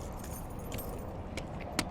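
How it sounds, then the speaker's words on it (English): A large bundle of keys for a 2022 OBI Dweller 15 camper trailer jangles and clinks close by, with a couple of sharper metallic taps near the end. "it comes with a ton of keys"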